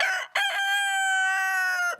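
A rooster crows nearby, one short clucking call followed by a long, loud, clear cock-a-doodle-doo.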